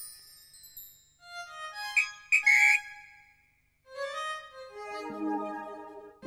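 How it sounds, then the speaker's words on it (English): Orange toy whistle blown in short shrill bursts amid tinkling musical tones, followed by a rising run of bright melodic notes, close and moderately loud. "An orange whistle."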